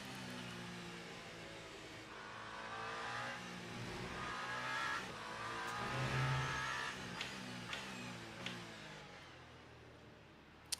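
Race car engine in the Le Mans Ultimate racing game, Isotta Fraschini, revving and accelerating steadily throughout with shifting engine pitch and a few sharp clicks near the end, no voices.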